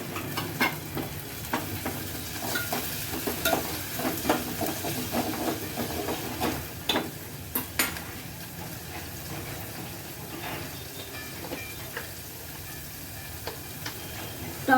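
Chopped onion and tomato frying in a pan for Marathi-style dal fry tadka, a continuous sizzle broken by stirring scrapes and soft clatter throughout.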